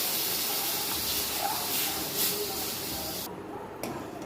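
Water boiling in a pan while making a sugar-based cough syrup gives a steady, close hiss and bubbling rush that holds throughout, easing slightly near the end.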